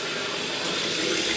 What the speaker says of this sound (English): And with the fan going.